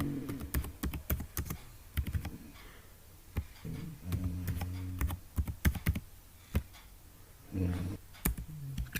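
Clusters of crisp, close keystrokes on a computer keyboard sound while entries go into Tally Prime accounting software, coming in quick bursts with brief pauses between them.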